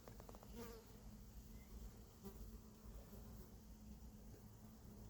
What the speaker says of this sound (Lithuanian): Nu rankai uodai kanda.